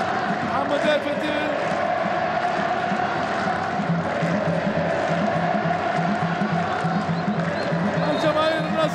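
Al Nassr supporters chant in a stadium during a 2023 football match against Al Hilal, a loud, sustained crowd roar with rhythmic chanting throughout, while a commentator talks over it.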